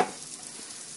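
Sloppy joe mix simmers and sizzles steadily in a pan, a soft, even bubbling hiss with a slightly louder start that settles into a quiet continuous frying texture.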